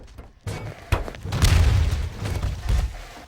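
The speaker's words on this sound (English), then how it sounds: "right click with your SMG and it'll blow things up" An SMG grenade goes off in Garry's Mod prop hunt, giving a few deep booming blasts and thuds that swell over a couple of seconds, loud and close, with no talk over them.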